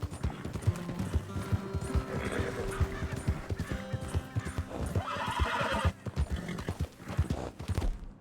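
A horse in the Red Dead Redemption 2 video game clip-clops along at a walk with rhythmic, close hoofbeats, snorting and giving a short whinny partway through, amid faint ambient game sounds.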